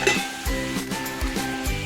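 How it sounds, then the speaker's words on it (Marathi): Onion frying in a pan while being browned, giving a steady close sizzle with soft rhythmic stirring scrapes repeating about every half second. "आपला कांदा आता लाल होत आहे बघा"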